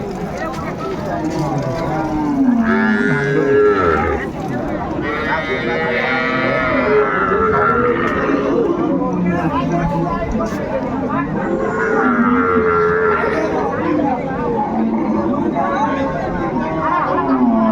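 Sahiwal, Sindhi and local dairy cows with calves at a busy village cattle market: repeated loud, drawn-out moos overlap one another amid a steady crowd murmur and nearby talking.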